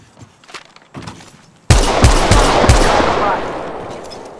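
Rapid automatic gunfire from Apex Legends Mobile breaks out after a few quieter seconds, with several hard bursts in quick succession before fading into a sustained rattling tail, loud and close.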